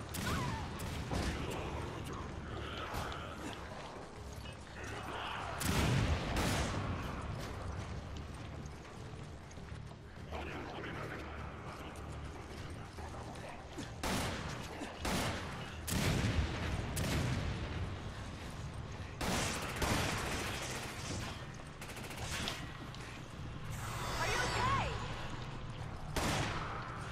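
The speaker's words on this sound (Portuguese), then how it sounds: "Quem tá atirando em mim?" Scattered gunfire from enemies shooting at the player in the Resident Evil 5 video game, irregular cracks and bursts mixed into busy game sounds, footsteps and background music.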